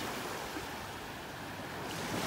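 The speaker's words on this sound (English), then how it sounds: "Few little waves rolling up on the shore here." Small waves roll up onto a beach shore at North Naples, Florida, a soft, continuous wash of surf with a gentle swell toward the end, faint and alone.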